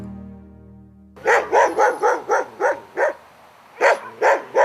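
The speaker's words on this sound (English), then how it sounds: "Every household has a couple or more dogs, and for good reason." Dogs in a remote Siberian taiga village bark in a steady run of loud, close, evenly spaced barks, pausing briefly before a few more, with no talk over them.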